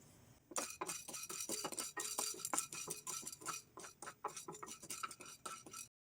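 Busy clinks and scrapes of a metal spoon stirring ingredients dry-roasting without oil in a pan for neem flower karappodi, a quick irregular rhythm of close metallic taps lasting several seconds before stopping abruptly.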